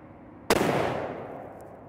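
A single sharp, loud rifle shot from a Mossberg Patriot in 7 PRC firing Hornady ammunition, with a sudden crack followed by a long rolling echo that fades outdoors.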